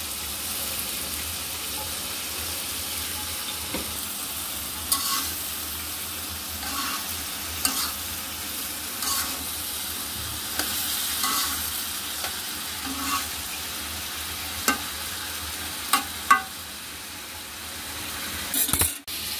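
Fish, with pabda named for the dish and tangra mentioned later, fries with vegetables and coriander leaves in a home-kitchen pan, giving a steady close sizzle with scattered stirring scrapes and clinks throughout, without talk.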